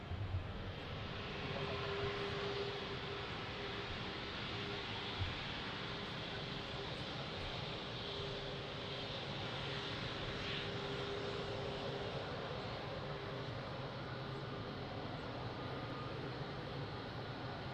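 Aircraft taking off from runway 02 at Lisbon Airport, a steady broadband engine roar holding at an even level for the whole stretch, with a faint low hum underneath and no break or fade.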